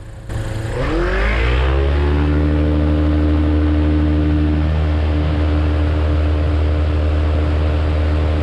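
A light aircraft engine throttling up to 2200 RPM in flight, its droning pitch climbing over a second or two and then holding as a steady, loud, close hum.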